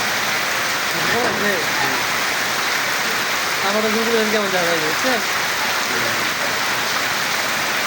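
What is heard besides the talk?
heavy rain at the start of winter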